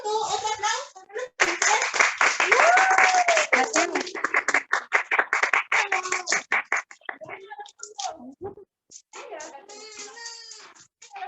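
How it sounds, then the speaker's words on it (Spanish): Children and adults at a school Chilean national holidays event clapping in an extended burst of applause, close and lively, with children's voices and an adult talking over and after the clapping. "Otro aplauso, ¿no?"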